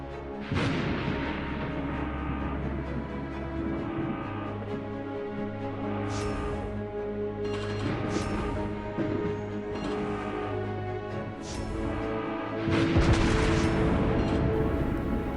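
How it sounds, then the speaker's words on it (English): Naval guns firing high-explosive shells in World of Warships Blitz, aboard the cruiser USS Buffalo: repeated deep booming salvos over a low engine drone, with music and a heavier blast near the end. "I fire HE at it"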